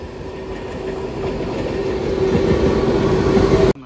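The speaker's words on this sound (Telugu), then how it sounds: "ఇప్పుడే స్లో అవుతుంది ట్రైన్" A train on the Araku–Bangalore line slows through a crossover, its steady wheel rumble and clickety-clack building up close and loud before cutting off abruptly.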